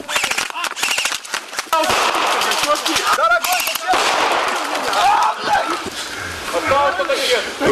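Gunfire and a grenade blast from a staged mock skirmish, with loud rapid bursts and sharp reports repeating over several seconds amid shouting voices.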